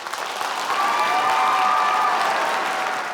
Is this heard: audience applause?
yes